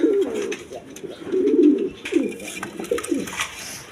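A flock of fresh pigeons offered for sale, including shirting pigeons, gives repeated low throaty coos in overlapping bursts, fairly close and continuous, with no talk over them.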